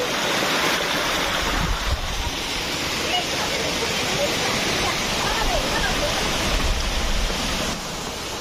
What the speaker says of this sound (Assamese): পানীৰ শব্দ শুনক ফ্ৰেণ্ডছ পানীৰ শব্দ